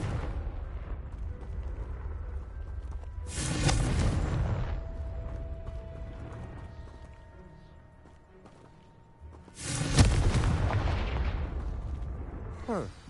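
Two explosive blasts from the Confringo spell in Hogwarts Legacy, each a sudden crackling burst that decays over a few seconds, separated by a quieter stretch of game ambience with faint talk.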